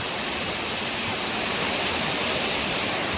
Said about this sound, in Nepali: यसरी यहाँ नदी यसरी बग्नु भएको छ